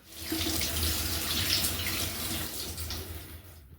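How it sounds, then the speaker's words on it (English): Hands being washed under a running kitchen tap, a steady close rush of water filling a sink that holds evenly for a few seconds before cutting off at the end. "So what's the first thing we need to do? Wash our hands."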